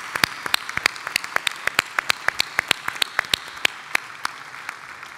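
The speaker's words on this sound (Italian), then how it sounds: "facciamogli un applauso naturalmente" Audience applause for a guest at an Italian Masonic event honouring Arnoldo Foà, a moderate round of distinct claps from a small crowd, close and crisp, thinning out toward the end.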